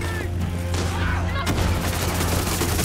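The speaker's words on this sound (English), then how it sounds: "Eat the grenade." Grenade blast in Far Cry 6 combat, a sudden loud burst about halfway through, followed by a rumbling tail and sustained gunfire noise, with steady game background beneath throughout.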